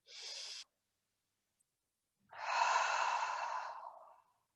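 Deep breaths during a gentle floor yoga session: a short sharp inhale, a pause of silence, then a long, slow, audible exhale fading out, close and quiet.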